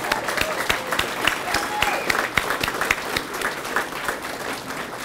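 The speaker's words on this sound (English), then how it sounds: "Give him a round of applause" An audience at a Veterans Day ceremony at a VFW in Hays, Kansas applauds steadily, with dense overlapping claps holding at an even level for several seconds.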